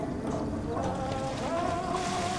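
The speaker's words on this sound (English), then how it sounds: "Alright, let's flush the toilet." A toilet flushes in the video game Fears to Fathom Ironbark Lookout, a steady rushing, gurgling water wash that fills the whole moment at even loudness, with no talking.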